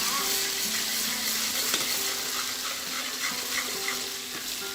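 Garlic ginger paste frying in hot oil for nihari makes a steady, loud sizzle and hiss, continuous and close, with no talking over it.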